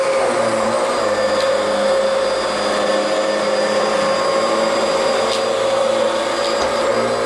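A Bissell Powerglide Pet vacuum cleaner runs on carpet, picking up pet fur, with a loud, steady, close motor whine that never lets up and no talking.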